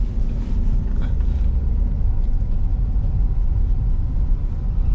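A Toyota Avanza engine pulls steadily in second gear after the clutch is released on a village road, a constant low rumbling drone at moderate loudness with no talk.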